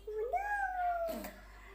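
A voice imitates a cat, giving a single drawn-out rising and falling meow, followed by a short breathy noise.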